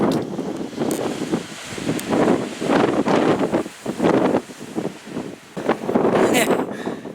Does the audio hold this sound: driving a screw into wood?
no